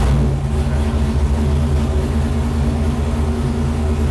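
An LS1 V8 engine in a C5 Corvette gives a loud, steady, low mechanical drone that holds evenly throughout, close up with no voices.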